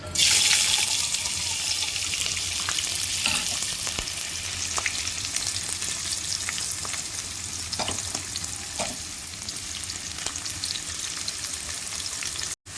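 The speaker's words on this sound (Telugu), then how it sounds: "నూనె బాగా కాగిన తర్వాత ఉల్లిపాయ పచ్చిమిరపకాయ" Chopped onion and green chilies dropped into well-heated oil in a kadai for okra pulusu, giving a loud, close, continuous sizzle that stays steady for the whole stretch and cuts off at the end.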